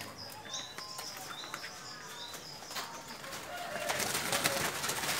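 A young zebra dove coos in soft, repeated short calls amid other birds chirping and wing flaps at a bird market, with a steady background hiss and faint distant voices.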